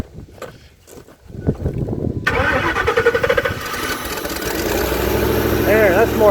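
A computer-controlled engine running on propane cranks with a few sharp mechanical clicks, then catches and roars into a loud, steady idle that builds slightly and holds. A whining tone rises and falls near the end.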